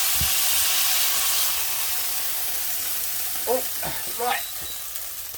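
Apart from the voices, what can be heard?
beef being browned (seared) in a hot pan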